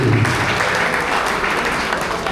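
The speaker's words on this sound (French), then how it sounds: "on va applaudir pour eux" Guests at a couple's evening party applaud in honour of absent hosts, a dense, loud burst of clapping filling the short moment without pause.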